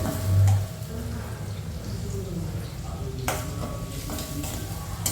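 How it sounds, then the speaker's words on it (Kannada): Onions frying in oil with mustard seeds and cumin for a North Indian mutter paneer, a low steady sizzle with a spoon stirring and scraping the pan, close, with a brief muffled bump near the start. "ಈಗ ನೆಕ್ಸ್ಟ್ ಅದೇ ಎಣ್ಣೆ ಉಳ್ಕೊಂಡಿರುತ್ತಲ್ಲ ಅದರೊಳಗಡೆ ಇವಾಗ ನಾವು ಸಾಸಿವೆ ಜೀರಿಗೆ ಹಾಕ್ಬಿಟ್ಟು ಈರುಳ್ಳಿ ಹಾಕೋಣ"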